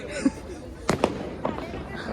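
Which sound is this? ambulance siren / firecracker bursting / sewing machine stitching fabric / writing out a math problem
firecracker bursting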